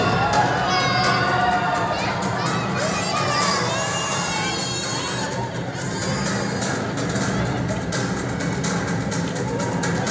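A crowd of performers shouts loudly and continuously in a church skit battle scene, voices overlapping in a sustained, cheering-like clamour with children's yells mixed in.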